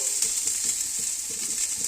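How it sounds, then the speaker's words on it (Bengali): Cauliflower frying in a pan makes a steady, close hiss of sizzling oil with faint soft crackles, even in loudness and with no talk. "দেখুন আমার ওই পাশে ফুলকপি ভাজা হচ্ছে"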